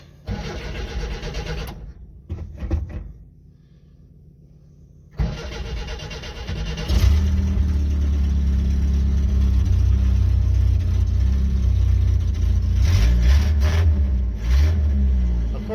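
An old car's worn four-cylinder engine cranks in short bursts, pauses, then catches and settles into a steady, loud running idle with small revs, heard close up.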